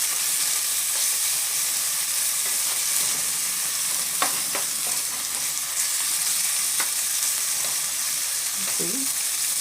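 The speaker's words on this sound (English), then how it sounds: "to that we're going to add the peppers and the onions. We're going to stir that up" Peppers and onions sizzle steadily in hot olive oil in a pan, with soft scraping as they are stirred; a dense, even frying hiss with no talking.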